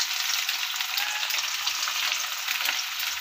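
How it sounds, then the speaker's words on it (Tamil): Skin-on chicken 65 pieces deep-frying in hot oil, a few at a time: a steady, bright, crackling sizzle that holds evenly throughout, close up and with no voices. "இப்போ கொஞ்சம் கொஞ்சமாக நம்ம பொறிச்சுக்கலாம்"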